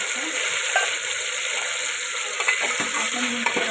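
Cumin and garlic fry in oil, a dense, bright continuous sizzle heard close up with a few faint clinks and stirs toward the end.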